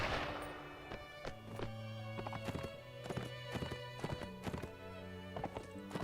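Horse hooves clip-clop in a video game while a horse whinnies, a string of sharp hoof strikes with tonal neighs layered over a busy game soundtrack, fairly close and steady.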